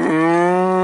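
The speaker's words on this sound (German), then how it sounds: "Hier schreien die Kühe." A cow lets out a single loud, close moo, a steady drawn-out call as cattle are driven out to pasture after winter feeding.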